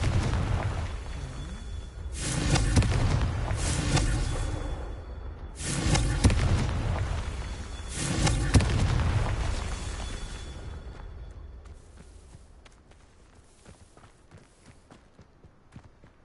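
Confringo spell explosions in Hogwarts Legacy, three heavy booms in a row a few seconds apart, each with a rumbling tail, then a fading quieter stretch.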